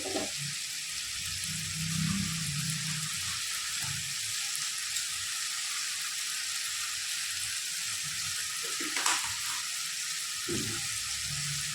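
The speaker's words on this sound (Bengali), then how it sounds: "এবারে 1 মিনিটের জন্য ঢাকনা দিয়ে দিলাম মোচাটা ভালো করে ফ্রাই হওয়ার জন্য" Banana flower frying with spices and a pinch of sugar in a pan, a steady close sizzle running throughout with occasional stirring scrapes and small bursts.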